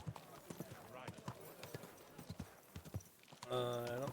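Horse hooves clop at a steady walking rhythm in the medieval game Kingdom Come Deliverance 2, loud and close, with a clear horse whinny near the end.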